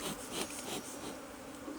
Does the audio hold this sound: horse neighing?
no